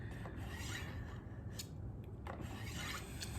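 An 8-inch Victorinox Fibrox fillet knife is stroked across a sharpening stone, a quiet, close rasping scrape repeated in quick, uneven passes with short gritty bursts.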